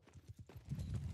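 Horse hooves clip-clop in a rhythmic run of quick, fairly faint strikes in the video game Bannerlord, followed by a low rumble of movement and no talking.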